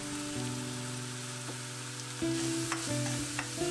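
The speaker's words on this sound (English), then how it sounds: "Give it a quick stir." Pork mince sizzles in a pan with doubanjiang chili bean paste, Shaoxing wine, salt and sugar as it is given a quick stir, a steady frying hiss with a soft scrape near the end, over a low background hum.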